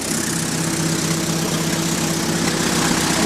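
A 1949 Allis Chalmers Model D motor grader's engine idles steadily up close, a loud continuous low rumble with an even tone and no voices over it.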